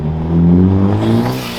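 A Hyundai Elantra N fitted with a six-element CPLT intake revs up in one loud, close, rising engine note that eases back down at the end.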